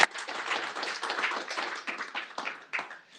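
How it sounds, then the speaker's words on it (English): Audience at a startup founder showcase breaks into a round of applause, a dense patter of many hands clapping steadily for about three seconds, fairly close, then thinning at the end. "Everyone, give a round of applause."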